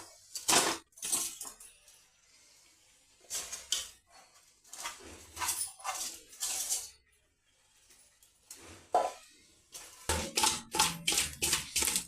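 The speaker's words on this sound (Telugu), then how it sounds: "చేపలు వేస్తున్నా." Fish pieces dropped into a pan of fried onions and chillies for a Telugu-style fish curry, with several separate bursts of sizzling, clattering and scraping between quiet gaps, getting busier and louder near the end.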